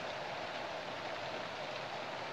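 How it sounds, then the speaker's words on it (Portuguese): Steady, even rain falls continuously in the backcountry of Paraíba on a Tuesday afternoon, a soft, constant hiss with no voices. "Tá chovendo."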